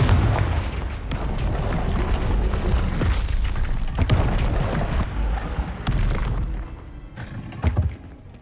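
A Confringo fire spell explodes in a Hogwarts magic video game, giving a loud, dense barrage of booming blasts and rumbling impacts that lasts several seconds and then thins out, with a few sharp hits near the end.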